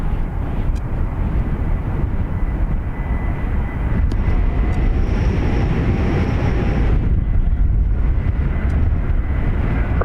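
Airliner departing Dublin Airport, a steady broadband jet roar with low rumble filling the whole stretch, loud and continuous from a distance, no talk.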